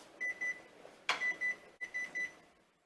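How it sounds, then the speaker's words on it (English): A kitchen timer sounds while cherry jam is being made: repeated pairs of sharp, high electronic beeps in a steady rhythm, close and clear, with a brief clatter partway through and no talk. "our timer is going off"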